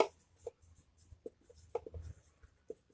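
Pen or chalk writing for a class 9 maths lesson on simultaneous equations, heard as short scratchy strokes and taps in irregular bursts. Each one is close and faint against a quiet room.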